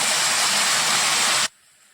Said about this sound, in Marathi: थोडंसं इथं आपण पाणी घालतो